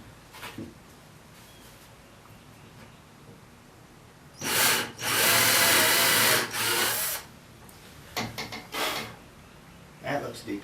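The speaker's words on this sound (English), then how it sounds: "Just drill the hole and let the hole push the tape up where it needs to be." A brace or drill boring a hole in wood for a chair spindle, a loud grinding burst of a few seconds followed by shorter scraping bursts, with someone talking around it.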